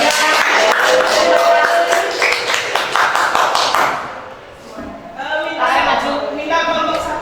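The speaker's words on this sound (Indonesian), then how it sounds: "Tepuk tangan." Schoolchildren in a classroom clap together in a quick, patterned rhythm for several seconds, fairly close and loud. A short pause follows, then another burst of clapping mixed with voices.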